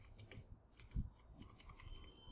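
Quick, light keystrokes on a computer keyboard as a command is entered, a short run of close clicks with one firmer tap near the middle, alone in a quiet room.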